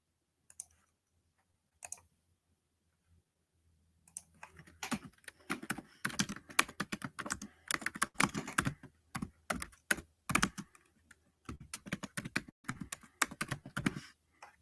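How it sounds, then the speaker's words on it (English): Typing on a computer keyboard, a dense run of close, crisp key clicks in irregular bursts after a few isolated taps, with no talking. "let me try typing it through here"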